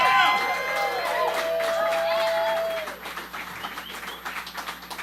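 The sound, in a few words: concert audience cheering and applauding for Nick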